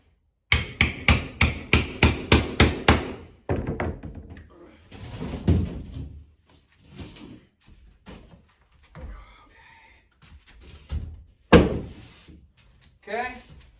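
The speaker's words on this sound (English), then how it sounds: "then you get your screws and tap, tap, tap, tap, tap" Screws being hammered into sheetrock, with a fast, even run of about ten loud, close taps, then scattered knocks and bumps as a person talks.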